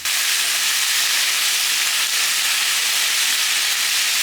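Food sizzling and steaming in a pan after soy sauce and water are added, cooking a home lunch: a loud, steady, close hiss and crackle that runs unbroken without talk.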